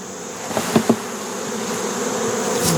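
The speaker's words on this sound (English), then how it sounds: "See, I've got bees that are hatching right now." Honey bees buzz steadily around an open hive during a late-summer colony inspection, a close continuous drone with a few brief louder passes near the microphone.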